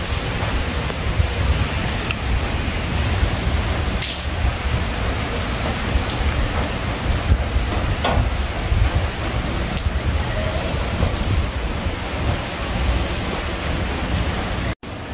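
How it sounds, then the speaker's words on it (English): Steady rain falls outdoors during a walk, a continuous broadband hiss at even loudness throughout, with a few faint sharper ticks and no speech. "The rain keeps threatening"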